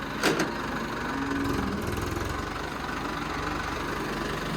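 A tractor engine idles steadily nearby during fodder service work at Baba Bakala Sahib, a continuous low rumble with no speech.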